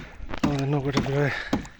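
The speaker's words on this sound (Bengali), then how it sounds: "আমাদের নৌকাটা আস্তে আস্তে চলে আসতেছে," A small fishing boat is hauled slowly toward the bank through water by hand, giving soft sloshing and creaking, with voices speaking nearby.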